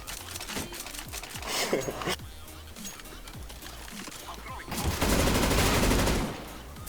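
Rapid gunfire bursts from a Counter-Strike: Global Offensive competitive match, sharp repeated shots scattered across the clip with a dense, louder volley near the end, with no talk.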